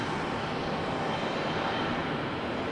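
Steady, loud jet roar of an airliner arriving at Charlotte Douglas airport, a continuous broadband rush without a break, heard from nearby.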